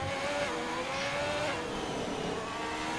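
Formula 1 car from the F1 2021 video game at the Australia circuit, its engine note climbing steadily under acceleration with a faint tonal whine, continuous and fairly close throughout.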